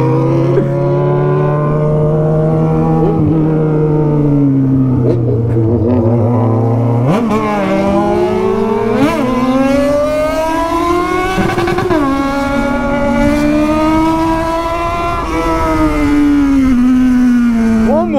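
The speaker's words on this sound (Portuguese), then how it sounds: "Moto que berra, viu, Fifio?" Yamaha XJ6 motorcycle with a straight-through exhaust revving hard at night, loud and close, its engine note climbing and falling through several long throttle sweeps.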